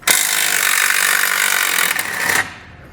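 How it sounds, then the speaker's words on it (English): A power tool with a 16mm socket spins a bracket bolt out of the frame of a 2021 Jeep during a tow base plate installation. It gives a loud, steady whirring burst for about two and a half seconds, then stops. "We're going to remove it with a 16mm socket."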